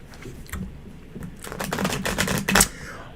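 Tarot cards are shuffled by hand, a rapid close riffling patter of card edges that builds in density and ends with a sharper snap.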